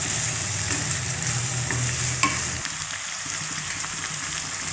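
Kair sangri pickle being stirred and mixed with soaked whole chilies and raisins, a steady wet stirring and sizzling texture close by that thins out after a few seconds, with no one speaking.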